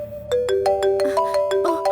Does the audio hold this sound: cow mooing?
no